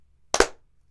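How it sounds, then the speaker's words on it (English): A single sharp hand clap marks the audio sync for a podcast recording, a close, loud double-peaked snap standing alone in near silence. "Clap sync."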